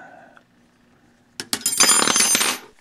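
A sharp snip, then a sustained rough cutting and scraping as the rear end is cut off a 1/8 scale RC sprint car, up close and fairly loud, with no talk.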